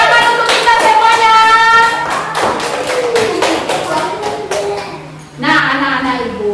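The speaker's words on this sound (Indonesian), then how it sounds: "Tepuk tangan untuk Ananda semuanya" Schoolchildren in a classroom clap in a rhythmic, patterned beat of sharp, close hand claps, while young voices chant along; the claps pause briefly near the end before the voices resume.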